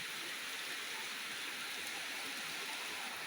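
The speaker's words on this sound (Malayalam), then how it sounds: "ഒരേ ലെവലിൽ നിന്ന് പെയ്യുകയാണ് മഴ" Steady, dense downpour of heavy rain in Kerala, a constant hissing roar with no pauses.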